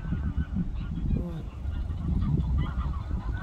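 Geese honk several times nearby, loud nasal calls over a low outdoor rumble and faint talking.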